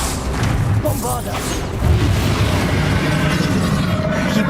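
A Bombarda explosion spell goes off in Hogwarts Legacy, a booming magical blast in the middle of dense game audio with battle effects and a character's voice, steady and loud throughout.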